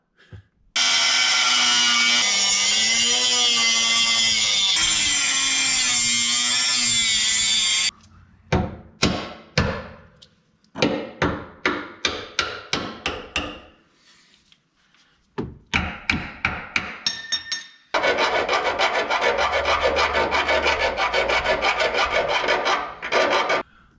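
A power tool fitted with a fresh blade cuts and shaves away part of a Toyota FJ Cruiser's body to clear 35-inch tires: a long loud whining burst, then a run of short rasping strokes, then another sustained grinding burst, all close up.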